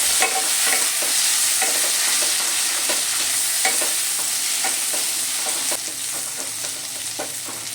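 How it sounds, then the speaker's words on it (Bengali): Raw tomatoes and cumin stirred and fried in hot oil in a pan for a Bengali tilapia curry: a steady, dense sizzle with repeated scraping strokes of a spatula, close and continuous, no voices. "টমেটোগুলো খুব ভালো করে নেড়ে চেড়ে একটু ভেজে নেব"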